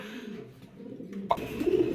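A pigeon stirs restlessly, with soft cooing and a brief rustle of wings partway through, close and fairly quiet.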